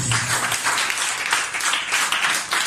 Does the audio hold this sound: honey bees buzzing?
no